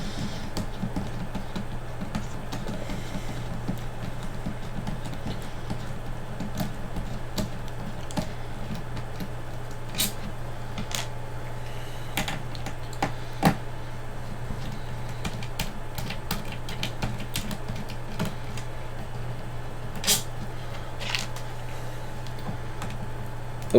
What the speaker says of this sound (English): I'm going to remove the rest of these screws that are in here